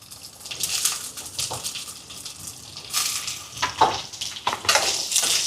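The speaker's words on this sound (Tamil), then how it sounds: "இப்போ இதெல்லாம் வதங்கட்டும் இப்போ வெங்காயம் எல்லாம் வதங்குது" Garlic and small shallots sauté in oil in a pan, sizzling steadily up close, with scattered stirring scrapes and a few louder crackling bursts.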